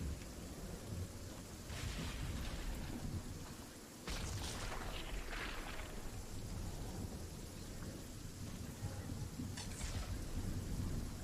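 A thunderstorm produces steady rain on a surface beneath long, deep rolls of thunder that swell and fade over several seconds, with a few sharper cracks.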